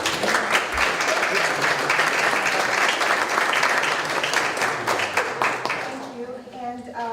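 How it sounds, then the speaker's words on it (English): An audience at a roundtable event bursts into loud, full applause that holds steady for several seconds, then fades as a voice begins speaking near the end. "Can we get a big round of applause for them?"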